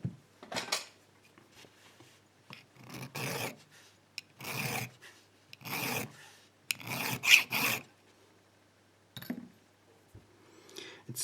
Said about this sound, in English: Let's use a file and see how it looks like underneath.